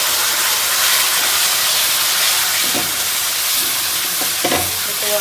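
Continuous loud sizzling of spices and tomato puree frying in a wok, with occasional stirring scrapes and no talking.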